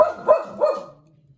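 A dog barks three times in quick succession indoors, loud and close, in a workshop where an Arduino Uno and motor shield project sits on the bench; the barks fade into quiet.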